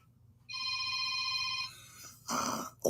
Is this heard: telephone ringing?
yes